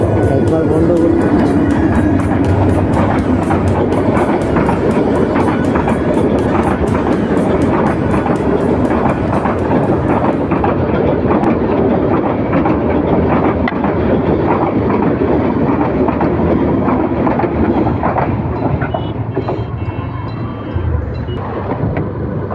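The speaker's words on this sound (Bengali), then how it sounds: "বাপ রে বাপ, মানে একসাথে দুইটা ট্রেন, মানে এক ক্রসিংয়ে একবার বন্ধ করতে।" Two trains rolling past a railway crossing in Gazipur, Bangladesh, a loud, sustained close rumble with rail clatter lasting throughout and easing slightly near the end, with voices talking over it.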